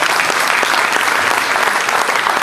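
A crowd at a Pakistan Independence Day gathering in Dundee claps for young children, a loud, close, continuous wash of applause filling the whole moment.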